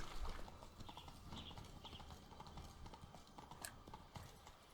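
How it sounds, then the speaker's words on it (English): Hooves of the horse Roach clip-clop at a steady trot in The Witcher 3: Blood and Wine, close and continuous over a dense game soundscape with faint ambient noise and no talking. "Whoa there, Roach"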